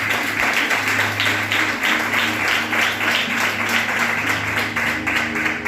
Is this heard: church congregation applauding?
yes